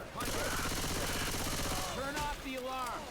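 Rapid sustained gunfire in the Left 4 Dead 2 video game, dense fast bursts over game noise and tonal effects, fairly loud throughout.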